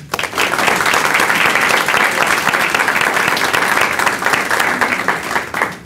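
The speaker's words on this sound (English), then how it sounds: "So a round of applause for everyone." A crowd gives a round of applause at a community organization event, with many hands clapping in a loud, continuous wash that holds steady and tapers slightly toward the end.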